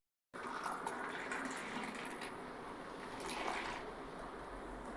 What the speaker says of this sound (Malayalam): ഇനി അങ്ങോട്ട് ഗ്ലാസ്സിലോട്ട് പതപ്പിച്ചങ്ങോട്ട് ഒഴിക്കുക